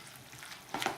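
Salsa being stirred with a whole lime's juice in it, a wet, squelchy mixing that stays soft at first and then swells into a louder burst of sloppy churning near the end, with no one talking.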